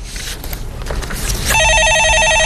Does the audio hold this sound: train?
no